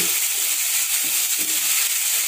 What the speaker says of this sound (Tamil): வெங்காயம் தக்காளி வதங்கிச்சு